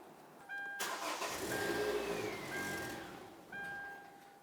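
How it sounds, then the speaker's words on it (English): A 2013 Kia Soul engine cranks and fires after a fuel pump module replacement, a loud start near 0.8 s settling into a steady idle, with a faint chime tone at the beginning and end. "We're now going to go ahead and start up the vehicle"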